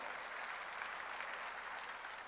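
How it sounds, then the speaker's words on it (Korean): A church congregation claps together during a worship service, a dense, even wash of applause at moderate distance with no voices over it. "박수로 하나님께 영광 돌려야지"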